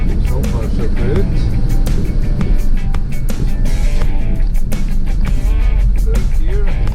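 A 1984 Ford F-150 bullnose pickup, revived after 13 years parked, rumbles loudly from inside the cab during a test drive, with low engine drone, rattles and road noise and people talking over it.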